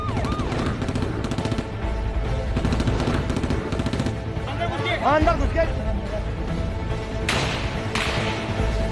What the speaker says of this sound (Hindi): दोनों तरफ से जो है गोलियां चलनी सुनाई दे रही है